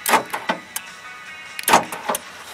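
A run of sharp mechanical clicks and clunks up close, a few quick ones, a pause, then another cluster, from the central locking door actuators of a 1992 Toyota Tarago locking and unlocking.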